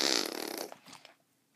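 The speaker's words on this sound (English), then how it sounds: "Meta Knight has an emotional breakdown and starts farting" A loud, buzzing cartoon fart sound effect from a Kirby animation rattles for about half a second, then breaks into a few sputtering little puffs that fade to near silence.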